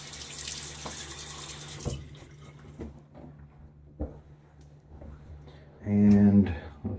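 Water running from a bathroom tap while wetting the face before a wet shave, a steady soft flow that fades into quiet handling noises, then a louder gush of water near the end.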